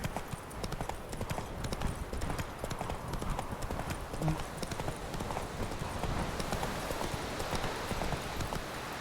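Roach the horse trotting in The Witcher 3: Wild Hunt, a steady rhythmic clip-clop of hooves running continuously up close, with a faint voice underneath.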